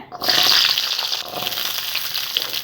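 Small onions drop into hot oil with a sudden loud burst of sizzling, which settles into a steady, close crackling fry for masala dosa filling.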